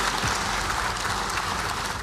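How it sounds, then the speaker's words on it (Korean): Lawmakers in the Korean National Assembly give a big round of applause after an all-night filibuster. The clapping is dense, steady and loud throughout the short stretch. "우리 밤새워서 고생하신 정성국 의원님 위해서 큰 박수 한번 부탁드립니다"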